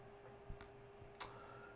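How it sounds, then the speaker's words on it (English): A couple of isolated keyboard clicks, sharp and faint against a quiet hum, spaced apart rather than in a typing run. "I'm not doing too well typing today"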